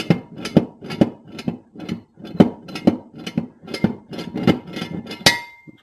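The post of a Pittsburgh 3 ton jack stand ratchets up through its notches, giving a steady series of a dozen or so close metallic clinks at an even, quick rhythm, ending in a sharper clank.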